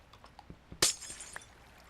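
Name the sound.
breaking glass blocks in Minecraft video game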